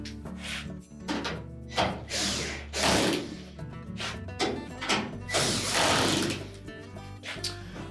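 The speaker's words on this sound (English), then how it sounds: "Now with those in place, we can tighten the 2 top screws." Screws being tightened on the panel of a Whirlpool dryer, with repeated close mechanical whirring and ratcheting bursts and scraping, moderately loud and without speech.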